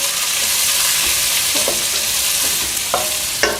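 Chilies, shallots and garlic cloves fry in hot oil with a steady loud sizzle while a spoon stirs and scrapes the pan, giving a few clinks near the end.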